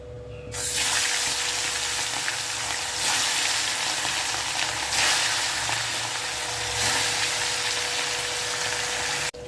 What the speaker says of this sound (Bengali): এখানে মাছ ভাজা বসিয়ে দিয়েছি